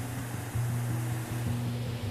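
A waterfall pours over a dam in foggy December cold, heard as a steady, broad rushing wash of water with a low rumble underneath, with no voices.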